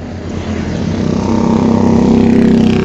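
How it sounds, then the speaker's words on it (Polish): Motorcycles on a Jakarta street rumble and accelerate close by, the engine drone building steadily louder as they pass. "Czyżby znowu tam były motory,"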